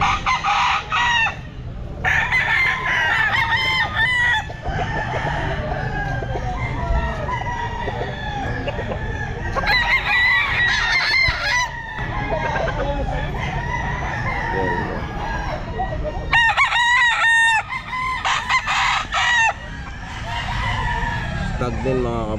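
Stag roosters at a pet market crow repeatedly and loudly, several overlapping calls near and far, with clucking and a busy background murmur throughout.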